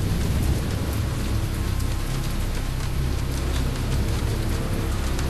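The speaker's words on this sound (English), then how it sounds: "In the middle of a tropical storm?" Tropical storm in Jurassic Park: The Game, with heavy steady rain pouring across the whole span and low thunder rumbling underneath, dense and continuous with no voices.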